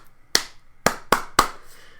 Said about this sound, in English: I don't mind the clapping pattern